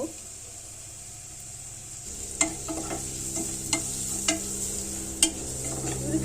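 Onions and turmeric frying in oil in a pot give a steady sizzle that grows louder partway through, with a few sharp clinks and scrapes of stirring near the microphone.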